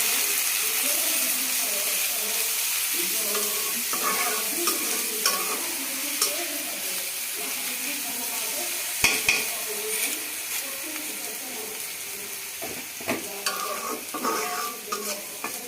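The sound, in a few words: frying dried fish and shrimp in a pan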